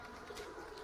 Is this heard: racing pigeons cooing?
yes